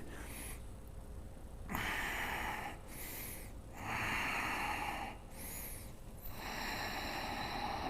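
Slow, deep breathing during a strong vinyasa yoga flow: long, airy inhales and exhales alternating steadily, with a nasal, slightly snorting quality, close and fairly loud.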